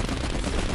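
Gunfire in the Call of Duty Black Ops Cold War campaign, a dense burst of shots crackling without pause through a brief, loud moment with no talk over it.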